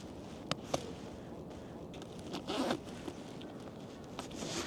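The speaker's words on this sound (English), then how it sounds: "And then unzip." A PGYTECH OneMo tactical camera backpack is unzipped in a few quick rasping pulls, close and fairly quiet, with one longer zip run in the middle and no talking.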